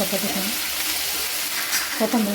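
Onions sizzling as they sauté in a pan for sevgyachya shegachi bhaji, a steady soft frying hiss with faint stirring clinks near the end.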